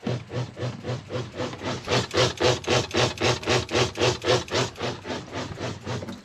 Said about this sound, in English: This is that noise that the pump is making I told you about.